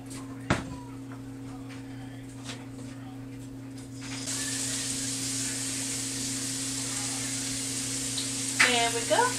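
Shrimp frying in a pan with butter-flavored cooking spray, a steady close sizzle that swells louder partway through, with a few utensil clinks and scrapes on top.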